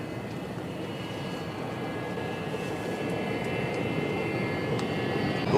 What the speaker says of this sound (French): Pourquoi il décolle pas, ce putain d'avion?